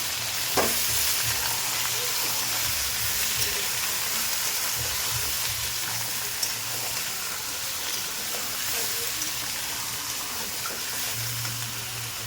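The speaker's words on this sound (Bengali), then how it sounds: "সেটা একটু নেড়ে নেব" Chicken curry sizzling in a pan as it is stirred, a constant close frying hiss with occasional scrapes and clatters, no talking.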